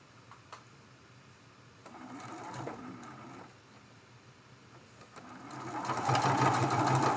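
A sewing machine stitches a seam on a Dresden Plate quilt block cut from charm pack fabric, its motor whirring in close, steady runs that pause briefly and then speed up into a louder, faster burst at the end.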